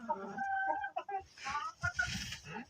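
Chickens in a coop cluck close by in a short run of tonal calls and clucks, with some breathy rustling noise in the second half.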